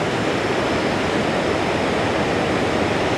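Khone Phapheng waterfall on the Mekong in southern Laos gives a loud, unbroken roar of rushing water, a dense wash of sound with no voices.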